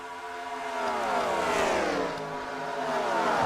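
Race car engines in a stock car racing video game at Chicagoland, several cars roaring together in a pack, a loud continuous drone of engine whine that rises and shifts in pitch as they run side by side.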